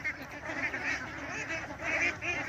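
A flock of ducks on a duck farm in Pakistan quacks and honks continuously, a dense chorus of overlapping calls at moderate distance.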